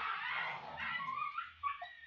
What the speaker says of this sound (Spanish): Uy, está matando el perro.